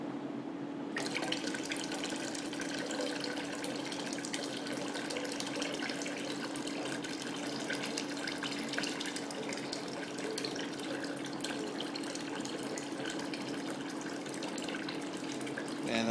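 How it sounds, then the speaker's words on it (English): Filtered water squirted and splashed by a turkey baster while making ormus with washing soda, a steady close liquid gushing and dribbling that runs without a break and with no talk. "Man, that was a lot of turkey basting I did"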